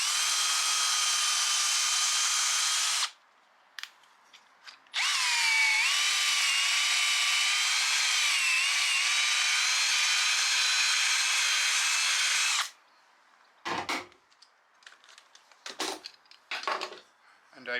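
A power drill whines loudly for a few seconds, pauses, then runs again for a long steady stretch boring a pocket hole through a jig into plywood, before stopping, followed by clunks and handling noises.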